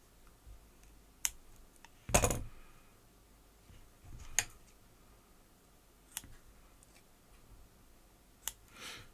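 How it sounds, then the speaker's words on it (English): A single sharp snip as silicone-insulated cable is cut apart in the middle, loud against a quiet room, with a few scattered faint clicks and ticks from handling before and after. "When separating silicone cable like this, it's often a good idea to actually cut it in the middle, like so"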